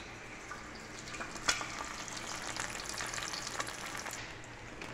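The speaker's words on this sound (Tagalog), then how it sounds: "nagpaprito na tayo ng itlog habang waiting tayo sa pinapakuluan natin" Steady, soft sizzling of an egg frying in a pan, with a few faint crackles and pops and no voices.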